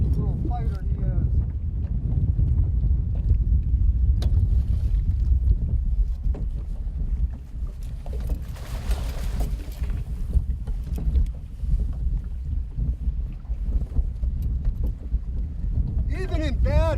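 Strong wind buffets the microphone on open water from a fishing boat out for northern pike, a continuous low roaring rumble with water lapping, and a voice briefly heard.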